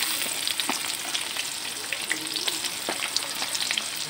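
Chopped onion fries in hot oil with a constant, even sizzle, broken by light stirring scrapes at intervals.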